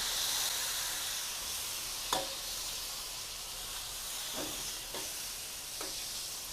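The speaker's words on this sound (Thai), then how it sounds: "ค่อยๆทอดไปค่ะ ไฟอ่อนๆ นะคะค่อย ๆ รม ค่อยๆทอดไปค่ะ" Mackerel with egg frying slowly in a little oil over low heat, a soft continuous sizzle with a few faint sharp spatters and pops, no voices.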